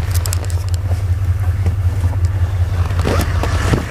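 A frozen K5 engine on a bitter cold, snowy day cranking steadily, a constant low droning churn throughout with some clicking and rattling near the end, close and loud, no talk.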